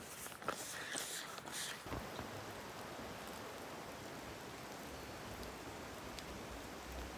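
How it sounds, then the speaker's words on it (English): Steady rain falls with an even, soft hiss throughout, after a few brief knocks at the start, with no talking. "Of course it's raining."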